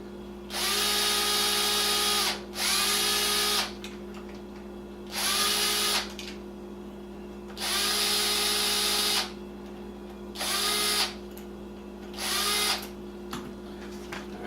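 Power drill loosening the head screws of an engine, running in six close, loud bursts of steady whirring with short pauses between them, alone with no talk.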